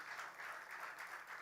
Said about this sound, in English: can we get a round of applause for Rabbi Nassim Blumis